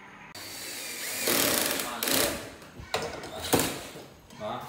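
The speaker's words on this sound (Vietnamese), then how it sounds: "mình sẽ làm cái việc là khoan cái giá treo lên trên tường" A power drill bores into a wall to mount the bracket for a Samsung 55RU7400 TV, several loud whining bursts of roughly a second each with brief pauses between, close by.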